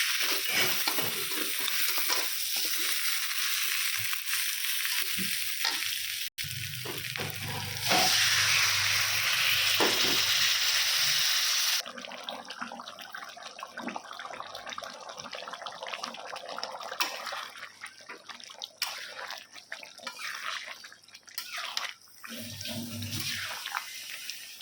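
Water poured into a pan of muri ghonto being cooked, a loud rushing splash for several seconds followed by quieter sizzling and stirring sounds nearby.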